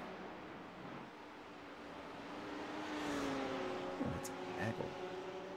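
A pack of GT3 racing cars sweeps past on the Nordschleife in a racing game, engine notes rising and swelling louder midway, while a commentator talks over them.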